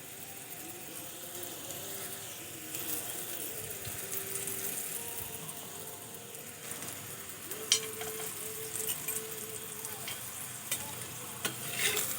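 Lachha paratha frying in oil on a pan, with a soft, steady sizzle and occasional scraping or flipping sounds, fairly quiet and close, with a faint tonal hum in the background.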